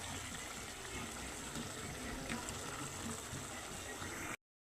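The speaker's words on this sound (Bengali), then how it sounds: "বেগুনগুলো আমি সাইডে সাইডে দিয়ে দিচ্ছি, আস্তে আস্তে সিদ্ধ হইতে থাক।" Eggplant pieces go into a simmering hilsa fish curry, giving a steady close bubbling and sizzling wash that holds evenly for a few seconds, then cuts off.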